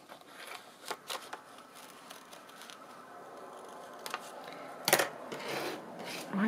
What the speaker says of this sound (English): I'll have to just finish it off with my scissors